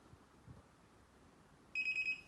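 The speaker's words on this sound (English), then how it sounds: "If the beams works properly, you can hear several beeps." An outdoor solar wireless infrared beam security sensor gives a rapid series of about four bright electronic beeps near the end after quiet handling sounds, signalling that its beams are aligned.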